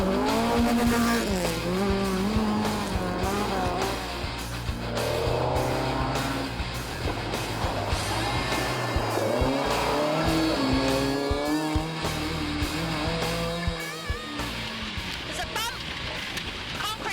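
Classic rally cars race through the second special stage on the Taieri Plains in Otago Coast State Forest, engines revving up and down through gear changes as cars pass, with a commentator talking over much of it.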